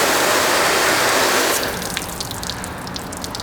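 Water from a hose rinses a car panel treated with ceramic spray, making a loud, close, steady gush that eases after a second and a half into lighter splashing and sheeting runoff.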